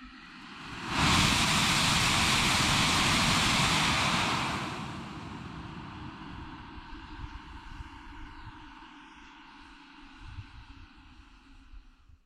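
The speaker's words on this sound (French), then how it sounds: "je suis allé mettre à feu ce propulseur" Amateur solid rocket motor, a homemade propellant bound with a little hot glue, fires on a static test: a loud, roaring broadband burn of about four seconds that cuts off, then low rumbling wind-like background remains.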